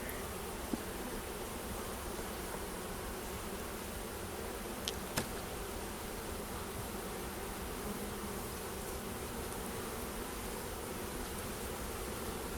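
Honeybees buzz in a dense, steady drone during a spring hive inspection, the hum continuous and close throughout with a couple of faint knocks and no talk.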